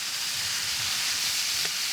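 Onions sizzle and fry on a hot cooktop beside wagyu cheeseburger patties, a steady broadband hiss for the full two seconds with no talking over it.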